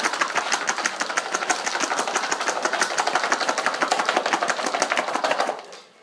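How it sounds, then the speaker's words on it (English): Garlic cloves rattle as they are shaken hard inside a container to loosen their skins, a fast, steady clatter of rapid repeated knocks that is loud and close, continuing without pause before it stops abruptly near the end. "Then you shake this container high."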